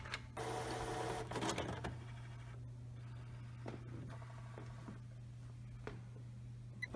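A Canon TR8520 printer powering on, its mechanism whirring and clicking close by over a steady low hum, with a busier burst of motor noise early followed by scattered quieter clicks.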